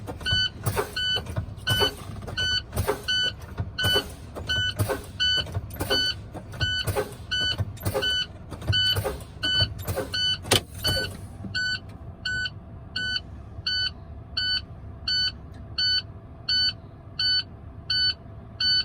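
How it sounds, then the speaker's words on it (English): Rhythmic bursts of air hiss repeat about once a second as truck air brakes are pumped until the emergency valve pops out around 33 psi, then stop; a steady electronic warning beep continues throughout. "I'm gonna keep pumping until it pops out"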